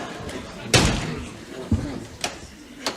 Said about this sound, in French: Vite, ferme la porte.